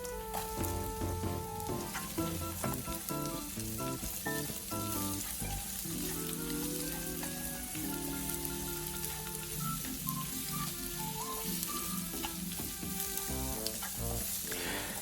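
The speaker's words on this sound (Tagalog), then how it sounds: "Sa mainit na kawali, ilagay na natin ang ating olive oil. Huwag itong masyadong painitin at isunod nang ilagay ang ating bawang at sibuyas." Garlic and onion sautéing in olive oil in a hot pan for chop suey, a steady bright sizzle running throughout with faint stirring and clinking, while background music plays beneath.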